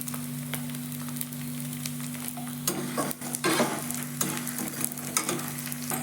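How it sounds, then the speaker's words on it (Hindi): Edible gum (gond) roasting in a pan on a medium flame, a close continuous sizzle with bursts of scraping and stirring, loud and steady throughout. "इसलिए हमें इसे मीडियम फ्लेम में भूनना है।"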